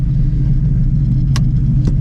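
A Shelby GT350 fitted with an ESS G3R supercharger cruises gently, giving a steady, loud, deep engine rumble from inside the car, with two faint clicks near the end.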